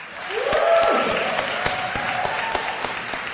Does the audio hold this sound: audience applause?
yes